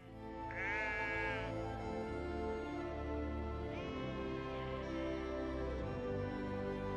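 Lambs bleat on a Shetland island farm, with a long wavering cry near the start and a couple of shorter calls later over a steady outdoor background.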